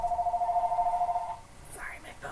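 A mobile phone rings during a lecture, its warbling electronic ringtone holding steady for over a second before cutting off, leaving faint room rustle and a few soft knocks.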